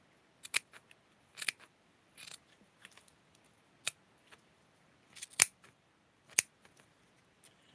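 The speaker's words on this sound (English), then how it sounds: "I am clipping it slowly to make sure that I don't cut or the scissors goes ahead of me" Scissors snip slowly and deliberately, a dozen or so sharp, separate cuts spaced irregularly in a quiet room, each crisp and close.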